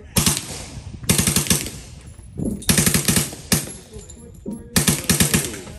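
Bursts of rapid automatic gunfire from a Micro Draco AK pistol with a binary trigger, loud and close, in four separate strings of fast shots with short pauses between them.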